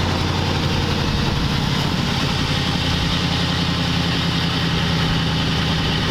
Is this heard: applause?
no